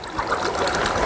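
Mango base liquid poured straight into a running machine, a continuous close gurgling stream that stays level and unbroken for the whole moment.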